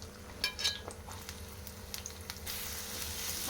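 Onion dropped into hot oil for an egg fry, a soft sizzle with a few clinks early on, then a steadier frying hiss toward the end, faint and close.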